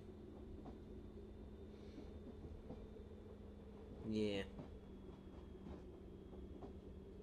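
Train running in the Euro Train Simulator game, a steady low rumble and rolling hum throughout with one brief louder swell midway, while a person speaks briefly over it.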